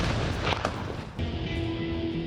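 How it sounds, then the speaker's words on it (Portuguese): An explosion near makeshift tents on the Palestinian side booms out as a loud, dense roar with a sharp burst partway through, then a sustained rumble. "Até que houve uma explosão."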